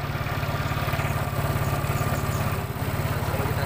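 A Yamaha Mio Sporty motorcycle engine runs at a steady idle, a close, even low putter that holds its rhythm with a brief dip near the end, with no talking over it.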